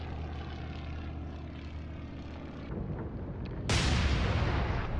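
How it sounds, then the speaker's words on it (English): Bomber planes launch in the naval strategy game Atlantic Fleet as a continuous propeller-engine roar, then a rushing burst swells up near the end, loud and with no talk. "Launch the bombers."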